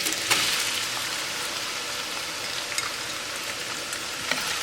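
Chopped onion hits hot oil with ginger and fries steadily, a dense continuous sizzle with a few small pops, no voices.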